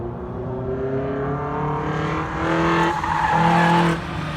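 Regular cars drifting around a track, engines droning and revving with tonal tire squeal rising toward the end, fairly close and loud, no talking.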